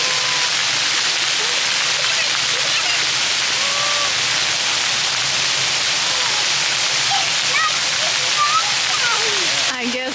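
Water splashing and rushing steadily in an outdoor setting in Bangkok, a constant bright wash of spray with occasional small splashes, as a child cries and people talk faintly in the background.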